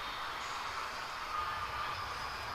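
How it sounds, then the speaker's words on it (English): A model railroad train runs steadily through canyon scenery on an operating layout, giving a continuous close rolling rumble and hiss with a faint thin wheel squeal, alone and without talk. "The train is now heading through the Echo Canyon."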